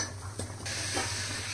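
Ridged gourds (tinde) tipped into a kadhai of browned onions and stirred, giving a soft sizzle and hiss of frying with a brief clatter, then steady low frying noise.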